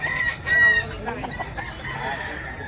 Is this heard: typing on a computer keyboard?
no